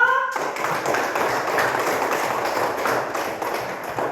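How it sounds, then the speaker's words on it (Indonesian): A class of third-grade schoolchildren claps hands together in a steady, dense burst of applause that starts abruptly and keeps going evenly throughout, close and fairly loud, with no talking over it. "Tepuk tangan dulu."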